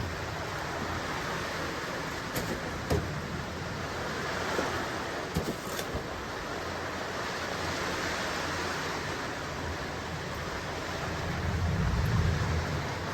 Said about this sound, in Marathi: काय करू आता ह्या पावसाला